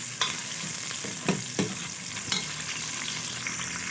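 One onion fries in two spoons of oil in a pan until brown, a steady close sizzle punctuated by a few sharp stirring scrapes, with no voices.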